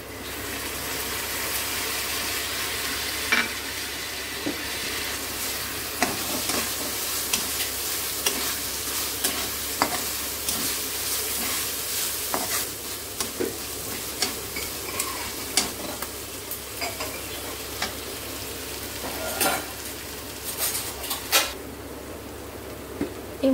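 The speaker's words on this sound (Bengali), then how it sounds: "এবার এতে আমি দিয়ে দেবো আদা রসুনের পেস্ট।" Ginger-garlic paste frying with onions in a pan, a continuous close sizzle broken by sharp spatula scrapes and taps against the metal at irregular intervals, with no voices.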